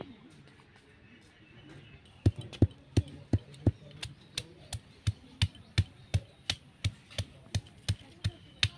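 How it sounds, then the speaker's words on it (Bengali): Toast being crushed into powder on a traditional Bengali grinding stone (shil-pata) makes a quiet start, then a steady run of sharp, evenly spaced knocking strikes, close and fairly loud, roughly three per second until the end. "টোস্টগুলো এখন গুঁড়ো করে নেব শিলপাটায়।"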